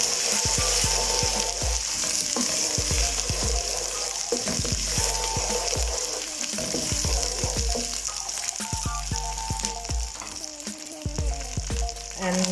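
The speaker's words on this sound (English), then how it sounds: "after 30 seconds of frying the ginger garlic paste" Ginger garlic paste frying in a pan, a steady loud sizzle running throughout with periodic stirring scrapes and clatters, no talking.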